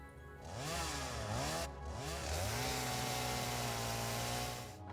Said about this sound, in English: I also have a need to chainsaw.